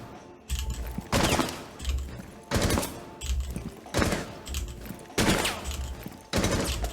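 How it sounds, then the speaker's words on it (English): Enemy gunfire in Rainbow Six Siege, loud repeated bursts of automatic fire in several rapid volleys with short gaps between them. "if I do this, they start firing at me, but if I do that, they don't even fire. So look, he fires at me."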